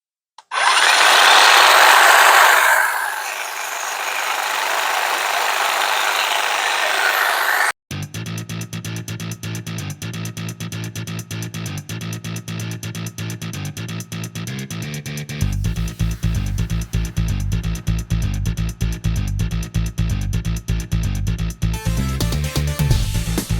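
Ryobi 18V One+ 22-inch cordless hedge trimmer (model P2608VN) cutting through a bush outdoors, a steady buzzing motor with a rapid chattering blade rhythm running continuously, close and loud, after an opening burst of broadband rustle.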